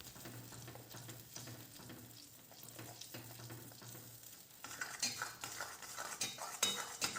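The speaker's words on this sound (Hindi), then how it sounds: "ग्रेवी को हम 1 से 2 मिनट तक के लिए स्टर करते रहेंगे" Methi matar malai gravy simmers and sizzles in a pan while a spoon stirs it, with scraping and clinks against the metal that grow louder and busier toward the end.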